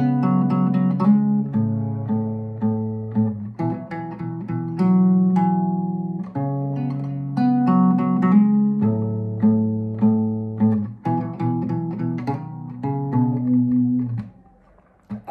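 Fingerstyle acoustic guitar plays the verse of Coldplay and BTS's My Universe, with a steady picked bass line under plucked melody notes, close and clear and alone, ringing out briefly at the end.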